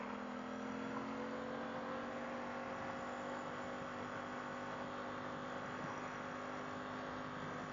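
Aprilia motorcycle ridden on an open road from Tavşancıl toward Gebze with the throttle opened, giving a steady, continuous engine drone and wind rush that holds without a break.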